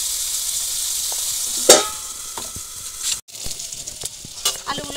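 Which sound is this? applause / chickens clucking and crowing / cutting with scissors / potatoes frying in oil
potatoes frying in oil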